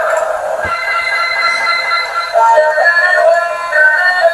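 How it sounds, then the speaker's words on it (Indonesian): A toy train plays a steady, tinny electronic whine with faint clicks, loud and close and continuous, with no talking. "Kereta Coco Charles"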